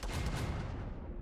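Turret gunfire blasting enemy vehicles in the video game Endzone 2, a loud, dense burst of booming shots running continuously through the short stretch with no gaps.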